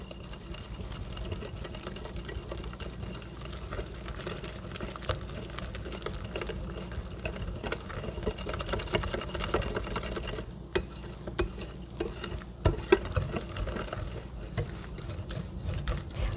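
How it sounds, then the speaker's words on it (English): A whisk stirs vegan pancake batter in a bowl until smooth, a soft, continuous rapid scraping and sloshing with a few sharper clicks toward the end, close and fairly quiet. "So I'm just whisking all that together until it becomes a smooth batter without lumps."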